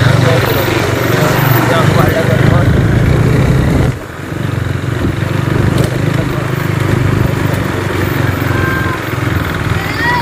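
A big motorcycle on a ride along hill roads, its engine droning loudly and steadily with wind rush throughout and a brief dip partway through.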